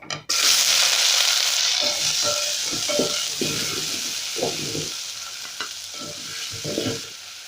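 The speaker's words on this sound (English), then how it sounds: "So for the onions, I'm just going to sweat them kiasi." Onions sweat in a hot pan for a thick potato and beef stew. A loud, steady sizzle hisses throughout, and close, irregular scrapes and stirs of a utensil against the pan sound beneath it.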